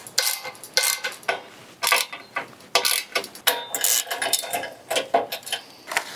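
Bolts being tightened with a ratcheting tool during assembly of a Spider Grills Huntsman grill, giving close, loud bursts of rapid metallic clicking separated by brief pauses, with no talk.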